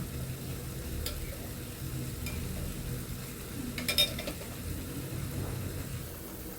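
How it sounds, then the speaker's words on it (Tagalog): Condensed milk and coconut milk are stirred together in a pot. The clip holds a soft, continuous swishing with faint scrapes and a few light utensil clinks against the pot, quiet and close. "Nilagyan ko lang ng gata para matunaw yung gatas. I-mix lang natin yan."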